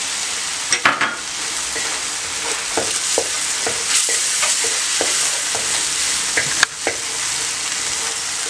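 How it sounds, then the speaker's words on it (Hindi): Boiled eggs stirred through a masala gravy in a hot pan, a steady loud sizzle running throughout with scraping spoon strokes and clinks at irregular intervals. "उबले अंडे डाल दें इसमें।"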